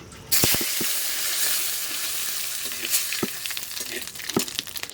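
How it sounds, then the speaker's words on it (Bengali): Cumin, dried chilli and bay leaf hit hot oil for a duck curry, setting off a sudden loud, steady sizzle with scattered crackles and pops that continues throughout. "তেল গরম হয়ে গেছে, এখন জিরে, শুকনো লঙ্কা, তেজপাতা দিয়ে দেবো।"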